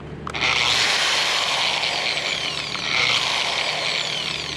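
A Bosch 5-inch 13-amp angle grinder with a paddle switch starts with a click, then spins up to a loud, steady high-pitched whir that holds for several seconds, with a second slight surge partway through.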